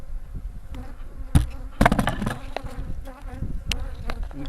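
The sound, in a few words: honeybees buzzing at an opened hive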